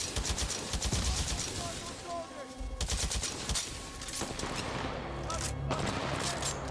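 Titanfall 2 gunfire comes in rapid, crackling bursts of automatic shots with short pauses between volleys, loud and close, with a voice speaking in places.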